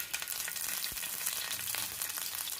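Curry leaves crackle and sizzle as they hit hot oil in a pan, a loud, dense spitting hiss running steadily throughout with one sharp pop partway through.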